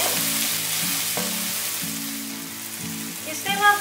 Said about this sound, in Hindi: मिक्स कर लेते हैं ये भी और जब तक थोड़े टमाटर सॉफ्ट नहीं होते हम इसको और कुक करते हैं।